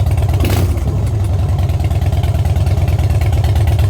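A 2009 Harley-Davidson Fat Bob FXDF motorcycle engine cranks over with a brief burst, then settles into a loud, close, steady loping idle with its characteristic uneven pulsing rhythm.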